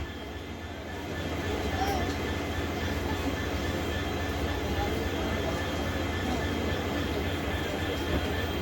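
A DEMU train approaches Bodhadi Bujurg railway station, a continuous broad rolling rumble that swells after the first second and holds steady, with possible faint voices in the background.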